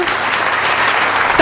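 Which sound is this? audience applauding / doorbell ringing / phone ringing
audience applauding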